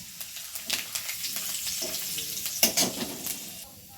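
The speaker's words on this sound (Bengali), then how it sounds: "এই আলু ভাজার কড়াইতে আরও তেল দিয়ে এর মধ্যে এখন শুকনো লঙ্কা ফোড়নে দিয়েছে, আর দিচ্ছে সাদা জিরে" Dried red chillies, whole cumin seeds and bay leaf sizzle in hot oil in a wok, with crackling spits and occasional stirring scrapes, close and fairly quiet, no voices.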